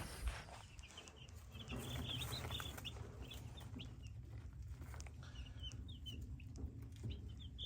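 Three-day-old chicks peeping in a brooder, a soft busy cluster of high cheeps over a low steady hum, fairly quiet and continuous throughout.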